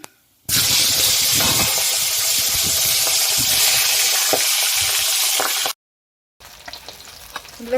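Large pieces of katla fish fry in hot oil, a loud, close, continuous sizzle that stops abruptly, followed by a short silence and then faint clatter.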